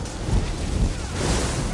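A rumbling thunder and lightning effect with a rain-like wash fills the Aetherian Archive trial in a PS4 game, loud and steady throughout.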